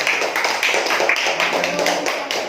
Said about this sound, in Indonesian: Berikan tepuk tangan untuk kawan yang maju